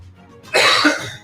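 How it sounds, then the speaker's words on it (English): A single loud, harsh morning cough bursts out close by and rasps for about half a second before fading. "A little bit of a morning cough here."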